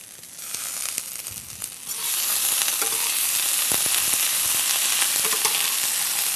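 Green beans fry in a hot pan with a loud, steady sizzle that swells into a dense, continuous hiss after a quieter opening, with a few stirring scrapes.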